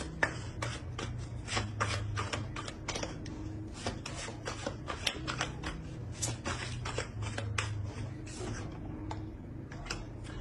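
Tarot cards being shuffled and drawn, a quiet run of quick crisp riffles and flicks repeating steadily, close up, with a faint low hum beneath.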